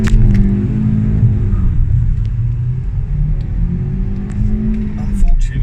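A borrowed Ford Ka endurance race car, prepared for the EnduroKA six-hour race at Cadwell Park, pulls away with a loud, steady low engine rumble that builds slightly toward the end; a voice talks briefly over it.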